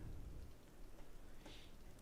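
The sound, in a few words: rain in a video game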